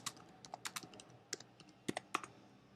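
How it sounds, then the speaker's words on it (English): Typing on a computer keyboard while entering a search query, with irregular bursts of close, crisp key clicks, a few louder strikes, and no voice. "So I can type in source, and then I can type in Times of India,"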